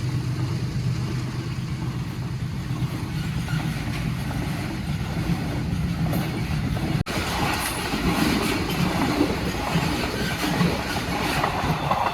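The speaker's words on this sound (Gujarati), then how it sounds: "આવી ટ્રેન" A train arrives on railway tracks with a continuous loud rumble of wheels and carriages passing close by, getting rougher and more clattering partway through, with no voices.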